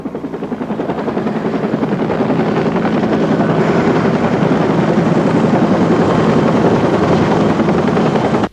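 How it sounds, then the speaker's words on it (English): A helicopter takes off with loud, pulsing rotor chop and a steady engine whine, close and sustained, then cuts off abruptly at the end. "When I watched that helicopter go up"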